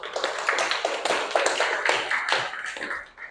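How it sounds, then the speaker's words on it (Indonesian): Applause in a classroom for a student group, a dense run of many hands clapping at fairly close range, steady and lively for a few seconds before tapering off. "Silakan beri aplaus untuk kelompok 1"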